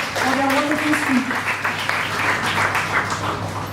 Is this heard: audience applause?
yes